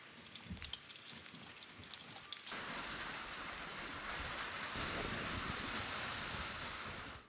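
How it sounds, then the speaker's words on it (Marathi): Heavy unseasonal rain with strong wind over farm fields, a dense, steady hiss and rush of rain that thickens and grows louder partway through and continues without voices. "सुसाट्याचा वारा आणि हा मुसळधार पाऊस"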